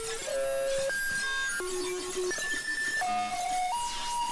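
Layered electronic music texture with a steady high-pitched tinnitus-like ringing tone beneath bleepy computer notes that step between pitches, forming a continuous ambient bed with no voices.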